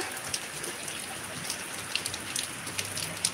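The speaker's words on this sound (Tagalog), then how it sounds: "Ang lakas ng ulan dito, Sis Lori." Heavy rain pours steadily onto a surface, a dense hiss of drops with scattered louder splats, heard close and continuous with no voices.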